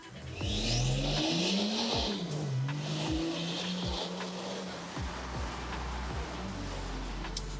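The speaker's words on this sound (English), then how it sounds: "Let's listen to this car through here, and you'll understand why we love this flipping diesel" A tuned BMW 640d with an inline-six diesel engine accelerates hard through several gears close by, its pitch climbing and dropping with each shift under steady road and wind noise.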